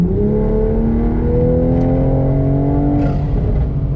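A tuned Toyota Supra engine revving up loudly and steadily, pitch climbing smoothly as it accelerates hard from about 55, close and continuous without any speech.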